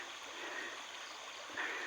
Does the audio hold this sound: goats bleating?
no